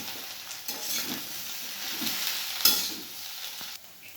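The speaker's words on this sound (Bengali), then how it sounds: "একটু তেল দিয়ে আমি এই রুটিগুলোকে ডিম আর পেঁয়াজের সাথে ভেজে নেব" Roti pieces fry with egg and onion in a little oil in a wok, giving a soft, steady sizzle broken by a few light stirring scrapes and clinks.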